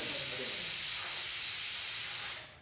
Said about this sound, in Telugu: కుక్కర్ అయిపోయింది కదా, దీన్ని పక్కన పెట్టుకుందాం.